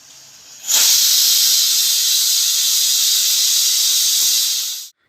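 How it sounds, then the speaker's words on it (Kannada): A pressure cooker boiling raw jackfruit in salted water lets out one loud, close, continuous steam whistle of about four seconds that starts abruptly and then cuts off, with no talk. "ಇವಾಗ ಒಂದು ವಿಷಲ್ ಕೂಗಿಸ್ಕೊಂಡಿದ್ದೀನಿ."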